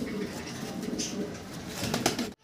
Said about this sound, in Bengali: ভিডিও স্ক্রিনে আপনারা দেখতে পারতেছেন এক জোড়া শ্যালো কবুতর